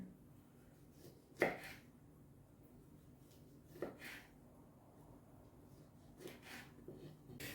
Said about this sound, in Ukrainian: Помідор теж приготовлю. Такими шматочками поріжу, щоб прикрасити зверху.